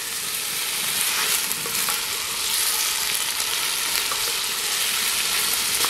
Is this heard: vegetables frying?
yes